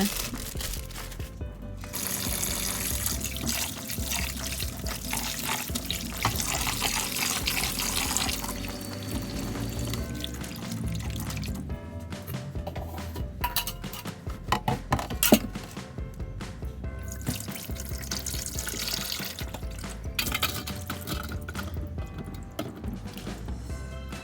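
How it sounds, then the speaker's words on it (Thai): Meatballs and sausages are washed under running tap water, with a continuous splashing rush of water throughout, mixed with crinkling plastic and the knock of items being handled. "ก่อนอื่นเราต้องล้างลูกชิ้นล้างไส้กรอกก่อนนะคะ"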